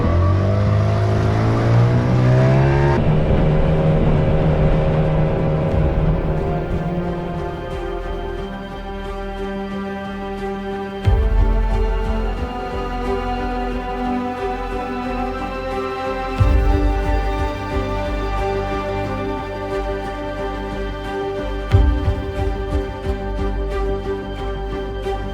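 Outboard motor on a small boat, run solo off Saint Martin, started with a pull cord and now idling and revving steadily, a loud close harmonic drone with a few sharp throttle bumps and no talking.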